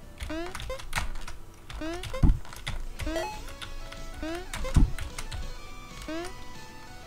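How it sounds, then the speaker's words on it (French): Computer keyboard typed on hard during a fast indie platformer game (Wizard Wizard!), a rapid clatter of keystrokes running throughout beneath busy game music and effects, with people talking over it. "Ton clavier il prend tellement cher."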